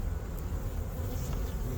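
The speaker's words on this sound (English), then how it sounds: "Because I'm kind of crushing bees here." Honey bees drone steadily at an open hive during an inspection, a dense, continuous buzz of many insects close by with no talk over it.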